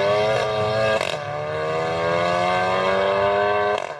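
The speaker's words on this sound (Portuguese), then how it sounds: "Os carros seguem pela Avenida das Américas, uma das principais da região." Cars in an illegal street race on Avenida das Américas in Recreio give off a loud, sustained high-revving engine whine that climbs steadily, with brief bursts as vehicles pass.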